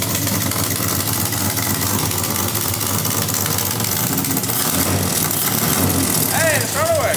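A Barra engine fitted in a C1100 International pickup truck running, a loud, rough, continuous engine rumble recorded up close, with people talking excitedly over it.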